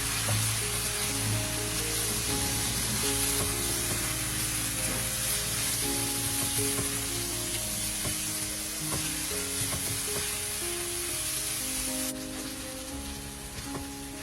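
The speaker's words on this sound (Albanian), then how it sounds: "Do ta përziejmë derisa qepa të jetë zbutur." Two medium onions sizzle steadily in hot oil with browned meat for a pea stew, with stirring scrapes throughout; a loud, continuous frying hiss that eases slightly near the end.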